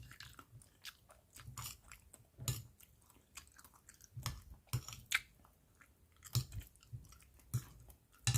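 Someone chews food while eating a hot dish with dipping sauce, with close, repeated crunchy bites and moist mastication in an irregular rhythm and no talking.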